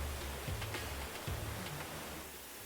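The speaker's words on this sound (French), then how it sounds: "entre la rivière et puis l'orage, on s'entend vraiment plus essayer de dormir" A river rushes beside a night campsite during a thunderstorm, a dense, even roar of water filling the air with low rumbles of distant thunder rolling underneath.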